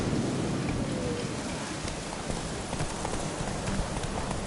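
Horse hooves clop through steady rain with rumbling thunder in The Witcher 3, a continuous stormy wash with rhythmic hoof beats, no talk.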